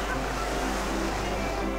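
Steady rushing water from a river rapids ride in RollerCoaster Tycoon, a continuous broadband wash with a low rumble throughout, no clear voices.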